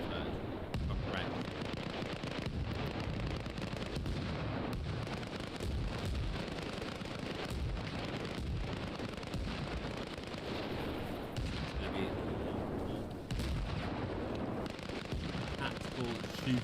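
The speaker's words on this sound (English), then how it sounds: "Shooting." Dense gunfire and artillery from the military video game Arma Reforger: continuous crackling shots and booming blasts that keep up a steady, loud, cluttered battle din throughout.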